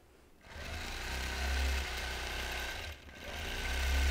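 A quilting sewing machine stitches leaf shapes into a quilt in a steady, close, continuous hum, with a brief dip partway through before it runs on.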